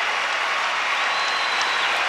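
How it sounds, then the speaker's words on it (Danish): An arena crowd in Aarhus gives sustained, dense applause for gymnast Beth Tweddle after her uneven bars routine at the World Championships, steady and loud throughout with no speech. "Stort set aftens højeste bifald i arenaen i Aarhus"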